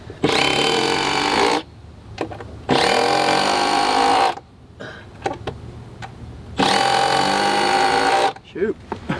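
A small cordless power drill drives screws into wooden front deck framing in three loud, close bursts of whining motor lasting about two seconds each, separated by quieter gaps with shuffling and brief sounds of people nearby.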